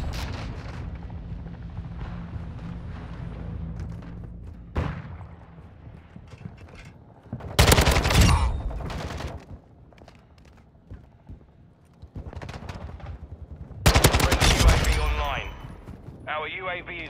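Bursts of gunfire and explosive booms from the video game Call of Duty: Modern Warfare II come in loud, dense volleys, with quieter rumbling stretches between them.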